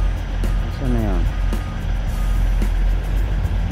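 A truck's reversing alarm beeps steadily and loudly over a constant engine rumble, with someone speaking nearby.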